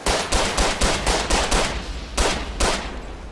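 A Chauchat machine gun is hip-fired in the World War I shooter game Verdun, producing several loud, rapid bursts of automatic fire with brief gaps between them and no talking.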